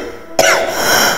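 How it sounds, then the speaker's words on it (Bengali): A single sharp cough bursts in after a near-silent start, followed by rough, breathy throat noise, close and loud, performed as part of a Bengali horror story narration about a man weakened and coughing up blood. "কাশি শুরু হয়ে গেল,"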